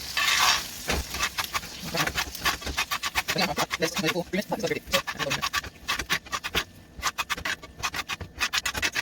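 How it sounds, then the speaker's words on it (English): A ribeye steak is basted with butter in a pan: a fast, rhythmic scraping and spooning with a bubbling sizzle underneath, close and fairly loud, with a voice speaking at times. "going to just take the butter and kind of toss over the steak for 1 to 3 minutes"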